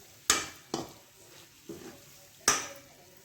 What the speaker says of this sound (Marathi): आता आपण याच्यात आपण जे तळून ठेवलं होतं पनीर ते टाकतोय।